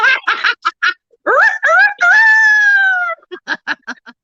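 Loud, close chicken clucking in quick bursts, broken by a rooster's long rising crow, then more rapid clucks.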